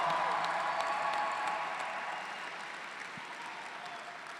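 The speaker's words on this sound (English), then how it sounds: "How about a round of applause for a Warrior?" A crowd at a San Francisco city hall celebration for the Golden State Warriors claps and cheers for a Warriors player, steady applause that slowly fades a little over several seconds.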